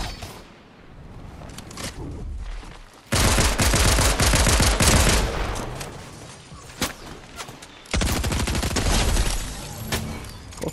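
Rapid video-game gunfire from a Star Wars Imperial Storm Trooper character rattles out in long, loud automatic bursts, broken by short pauses and scattered single shots.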